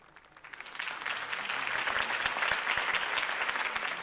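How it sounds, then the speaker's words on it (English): A crowd applauds a campaign speech in the Batman Telltale video game, clapping swelling from quiet into a steady, dense ovation that holds throughout. "If only Mr. Wayne, my campaign's largest backer, could have heard that applause"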